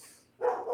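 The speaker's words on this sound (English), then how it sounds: "she has not stopped barking" A dog barks at a delivery person outside the door, one short sharp bark muffled indoors after a brief quiet moment.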